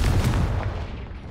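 Confringo blasting spell going off in the video game Hogwarts Legacy: one deep, loud booming blast that rumbles and slowly fades over about a second, with no voices.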